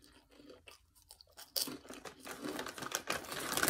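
Pigless pork rinds, a plant-based snack, crunched while eating: sharp crisp bites and chewing up close, growing louder and denser toward the end, with no talking.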